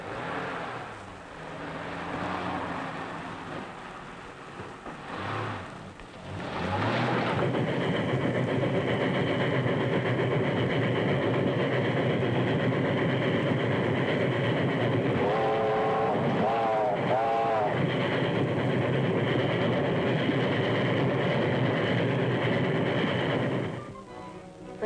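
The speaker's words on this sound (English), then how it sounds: "That's the train." Steady rumbling run of a train on rails in a 1937 film, a loud continuous broadband roar with low mechanical throb lasting most of the stretch, with a brief whistle-like tonal sweep partway through.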